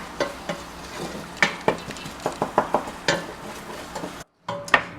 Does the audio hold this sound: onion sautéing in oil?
yes